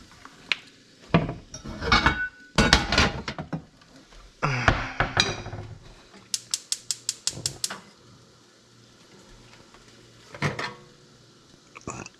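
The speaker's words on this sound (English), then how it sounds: "I'm going to turn the heat off and just put a cover on that" A cover set onto a hot frying pan of kohlrabi hashbrowns with Parmesan, heard as a few sharp metallic clinks and clatters, then a quick rattling run of taps and later another faint clink in a quiet kitchen.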